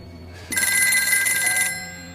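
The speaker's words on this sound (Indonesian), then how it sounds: "Namun tiba-tiba sebuah telepon berdering." A telephone rings in a Squid Game film scene, one bright, trilling bell burst of about a second, clear and close.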